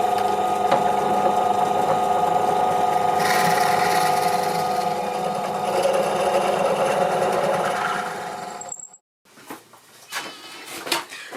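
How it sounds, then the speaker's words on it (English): Power drill boring a 9mm hole with an 8mm brad point bit and then a high-speed bit, likely in wood for a toy windmill; a continuous motor whine that rises midway, then stops abruptly with brief faint handling noise after. "first I'm going to use an 8mm brad point bit to get it nice and central, and then I shall just open up the hole to 9mm with a normal high-speed bit"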